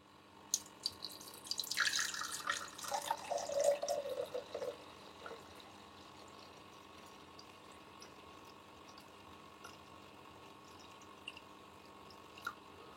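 Aquarium water taken from a main display tank is poured into the tank's back chamber, a faint splashing trickle for a few seconds that then fades to quiet pump hum and an occasional drip.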